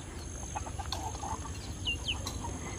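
Chickens cluck faintly in a few short calls against a steady hum of background noise, with a couple of thin higher chirps, distant and quiet.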